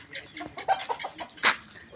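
Quiet, scattered chicken clucks and short squawks sound nearby in a brief burst.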